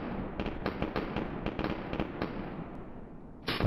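Distant gunshots crackle from the shooter game BattleBit Remastered as a series of sharp, irregular pops over a steady background rumble, with a louder burst at the end.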